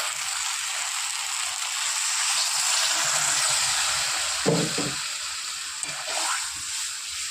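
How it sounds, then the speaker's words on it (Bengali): Rinse water from a mixer jar splashes into sizzling fried masala made with mustard paste, a steady hiss of frying swelling with a few short bursts as the water hits the hot pan. "এবার মশলা যেটার মধ্যে করে নিয়েছিলাম সেই মিক্সি বাটিটা ধুয়ে জলটা দিয়ে দেবো"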